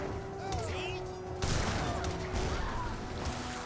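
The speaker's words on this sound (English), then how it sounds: "Heavy cannons obliterating the town center now." Heavy cannons pound a town center in a match of the Age of Empires 3 strategy game, with repeated booming blasts and crashing hits layered over ongoing battle noise, moderately loud and dense.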